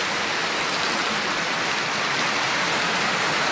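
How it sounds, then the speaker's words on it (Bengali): Heavy rain pours down in a steady, dense hiss that fills the whole stretch without a break, loud and close. "এই বৃষ্টি হচ্ছে অনেক বৃষ্টি"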